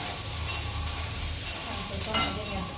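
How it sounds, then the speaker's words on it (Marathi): Potato filling for aloo paratha sautéing in a pan with a green chili, ginger, garlic and coriander paste, giving a steady close sizzle with stirring scrapes throughout and no talking. "ती पेस्ट ह्याच्यामध्ये टाकते आता परतून घेते"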